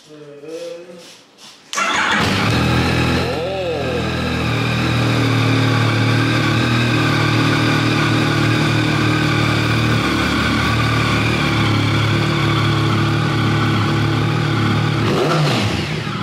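A motorcycle engine in a repair workshop fires up after a couple of seconds and keeps running loudly, with revs rising and falling through the rest.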